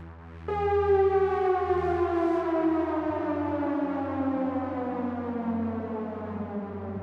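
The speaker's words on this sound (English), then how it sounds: "Here I have a siren type of downlifter." A siren-style downlifter effect in an Afro-techno track, a loud wailing tone that kicks in abruptly and then glides slowly downward in pitch over several seconds, layered over a low pulsing bass bed.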